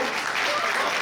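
A brief burst of steady crowd clapping at a retirement celebration, welcoming contestants as they step out.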